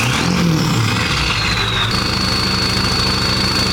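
A modified Ford 7.3 Powerstroke diesel pickup engine idles loud and near, a rapid rhythmic low clatter with a high whine that steps up midway.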